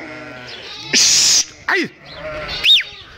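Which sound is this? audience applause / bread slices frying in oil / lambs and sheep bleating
lambs and sheep bleating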